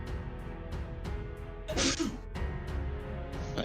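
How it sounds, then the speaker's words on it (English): A creature in a video game lets out a sneeze, a short breathy burst standing out midway over a steady backdrop of game music with regular beats. "Then it gives out a nice sneeze."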